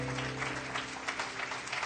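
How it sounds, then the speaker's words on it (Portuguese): A church congregation applauding during a Portuguese-language Sunday worship service, a brief burst of many hands clapping at moderate volume with no one speaking. "Dá um aplauso para Jesus, por favor."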